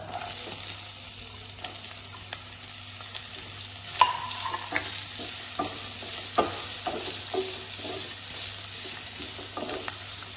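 Finely chopped onions sizzle and hiss in a pan after corn has been cooked, with the frequent scrape and clatter of stirring, steady and close for about ten seconds while making a noodle dish.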